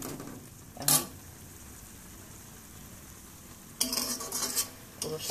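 A utensil stirs red amaranth greens mixed with rice flour in a pan, giving scraping clinks against the metal at the start and in a cluster of scrapes near the end over a steady low sizzle.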